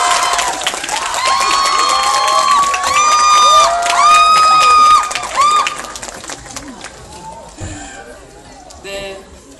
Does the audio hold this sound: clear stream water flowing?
no